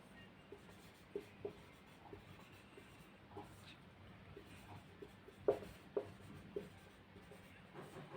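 Handwriting with a pen on paper while noting down grammar rules, faint scratchy strokes with a few sharper taps against a low room rumble.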